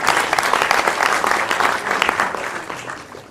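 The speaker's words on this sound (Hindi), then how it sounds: "कोई एक और तालियां होनी चाहिए यार" Audience at a sales training session bursts into lively applause, a close, loud flurry of many hands clapping with quick sharp claps, tapering slightly near the end.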